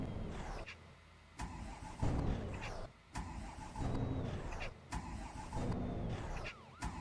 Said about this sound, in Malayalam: ഗൈസ് വണ്ടിക്ക് എന്തോ മിസ്സിങ് പോലെ ഒരു പിടുത്തം വരുന്നല്ലോ